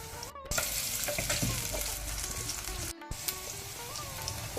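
Hot oil frying in a pan during preparation of a Mangalorean cora fish curry with raw mango, a steady close sizzle running throughout with brief interruptions and occasional clinks, no talking.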